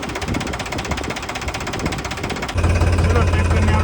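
A tractor engine runs on a farm, a loud, steady chugging rumble with rapid knocking pulses that shifts to a deeper, heavier idle partway through.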